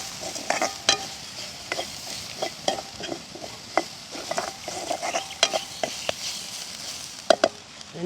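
Crushed black pepper sizzles in hot oil for a tempering in a village kitchen, a close, steady fry broken by frequent sharp clinks and scrapes of a spoon against the pan.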